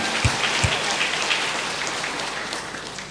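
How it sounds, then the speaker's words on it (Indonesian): A congregation claps together at a mass, a continuous hiss of many hands with a couple of louder thumps near the start, and no voices over it. "Tepuk tangan bagi Tuhan."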